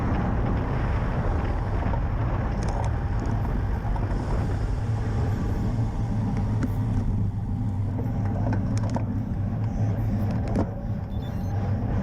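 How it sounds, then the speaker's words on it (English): Heavy wind roars across the microphone during a bike criterium race in Kingswood, a loud, continuous low rumble that lasts the whole stretch with no talking. "The wind is strong today"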